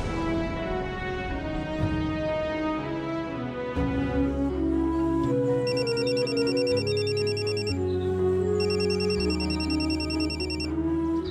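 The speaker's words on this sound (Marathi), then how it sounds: "मला एक फोन येतोय, मला तो रिसीव्ह करावा लागेल." A melodic ringtone plays continuously over drama background music in a Marathi TV serial scene, a repeating electronic tune coming in bursts and fairly loud under the score, with no talk.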